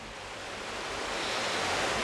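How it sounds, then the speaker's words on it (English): A waterfall in a gorge in Snowdonia gives a steady, broad roar of rushing water that swells slightly, with no voices over it. "The edge of the waterfall."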